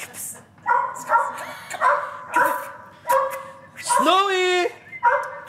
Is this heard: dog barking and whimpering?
yes